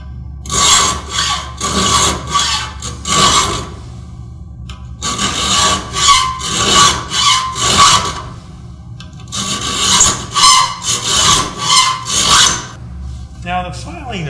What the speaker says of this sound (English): Now, the filing of a crosscut saw varies from rip saw